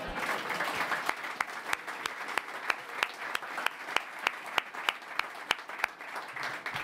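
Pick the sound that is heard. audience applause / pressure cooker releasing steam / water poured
audience applause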